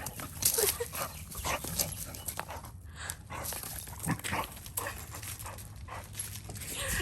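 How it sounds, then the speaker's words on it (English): A dog whimpers, yips and scuffles excitedly in a home kitchen, close by with uneven bursts of noise, while a person speaks faintly at times. "Please disregard my dog acting crazy."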